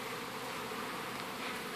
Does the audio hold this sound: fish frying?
no